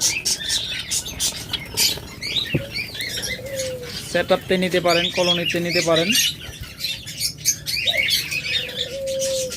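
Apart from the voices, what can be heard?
Java sparrows chirping at a bird sale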